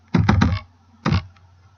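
Keys are typed on a computer keyboard while entering a list into an Excel spreadsheet: a quick run of three crisp keystrokes, a pause, then one more, close and clear.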